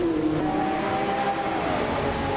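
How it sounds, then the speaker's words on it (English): A 1995 BMW M3 GT-R Evo race car in a retro DTM race, its engine droning steadily at high revs with a rising and falling tone, close and continuous with no talk. "Joey Pastrami is driving a 1995 BMW"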